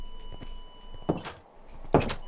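A door opens in a video game with two solid thunks about a second apart over quiet background hum.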